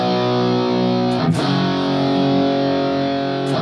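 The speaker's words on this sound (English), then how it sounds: "I've got a little bit of chorus on my guitar. I've got a little bit of reverb and a little bit of delay." Electric guitar run through chorus, reverb and delay, a sustained distorted chord ringing out loud, struck again partway with a brief pick scrape, then left to hang and shimmer.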